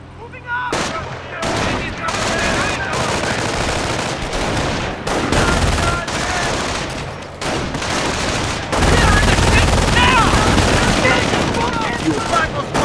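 Video game battle gunfire with rattling machine-gun bursts and single shots, loud and dense, broken by short gaps, with shouting voices mixed in under the shooting.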